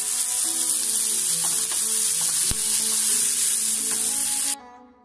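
Tomatoes sautéing in an oiled pan, a continuous close frying hiss with faint tonal background notes and one sharp knock midway, and no voices; the sizzle cuts off abruptly near the end.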